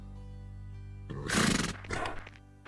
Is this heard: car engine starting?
no